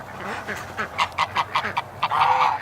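A duck quacks repeatedly outside a farm pen, a series of loud, nasal honking calls in an uneven rhythm, close by, ending in a longer drawn-out call.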